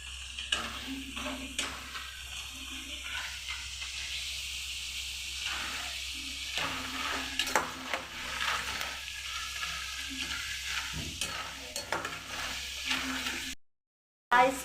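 Jackfruit chips fry in a pan of hot oil with a steady, dense sizzle, punctuated by soft stirring scrapes and clinks, ending in a brief abrupt silence.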